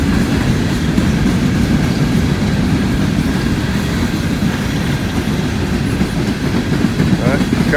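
Long freight train of empty coal cars rolling past at Thurmond, a loud continuous rumble with rhythmic wheel clatter at close range, with a voice partly audible beneath it.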